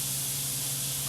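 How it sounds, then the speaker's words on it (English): A palm-sized burger patty sizzles in a greasy pan, producing a steady, loud, close hiss throughout. "we're just going to set it down in the pan. Let the grease form around it"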